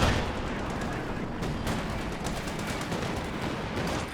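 Katyusha rocket artillery firing in the strategy game Company of Heroes 2: a dense, continuous barrage of rumbling blasts and crackling launches, loud and close, with no voices.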